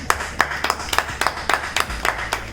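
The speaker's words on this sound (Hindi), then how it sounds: "सबसे पहले तो मैं आदरणीय अनुराधा जी को बहुत बहुत बधाई देता हूँ श्रेष्ठ रचना के लिए। इतना बढ़िया काव्य पाठ उन्होंने किया, तो उनके लिए जोरदार तालियां।" Rhythmic clapping after a poetry reading at a Navratri kavya goshthi, about nine distinct, evenly spaced claps close to the microphone, crisp and fairly loud over a low background hum.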